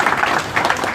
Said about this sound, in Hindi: एक बार ताली हो जाए गुरुजी के लिए।